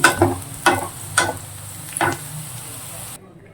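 Bitter gourd sizzles in hot oil in a kadai, with steady frying hiss and four sharp stirring scrapes spread across the first two seconds, then it cuts off abruptly to near silence.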